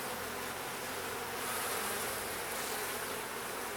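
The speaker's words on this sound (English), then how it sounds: "A lot of intense bee activity." Worker honey bees in an opened hive during an inspection, a dense, steady buzzing hum heard close up and alone, with no voices.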